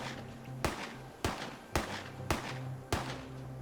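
Five sharp gunshots crack at a steady, evenly spaced rhythm during an Arma 3 esports firefight in the jungles of Tanoa, each one loud and close over a low ambient hum.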